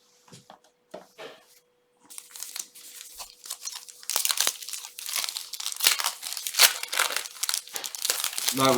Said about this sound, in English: I don't mind opening them by hand.